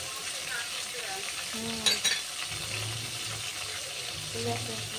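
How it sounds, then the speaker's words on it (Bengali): Spices and fish sizzle steadily in a pan for a Bengali fish curry, a close broadband hiss with a couple of sharper spits and a soft stirring clatter, faint background speech underneath. "ওই সব কিছু আমি ভালো করে কষিয়ে নেব"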